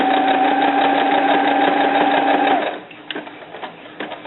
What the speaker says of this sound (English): just come back and pick up what you didn't sew the first time.